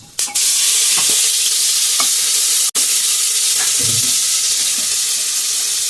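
Onions stirred in a pan with chilli, cumin, cardamom, cloves and black pepper for biryani, hitting the oil with a sudden loud hiss that becomes a steady crackling fry, with a brief break and several spoon scrapes.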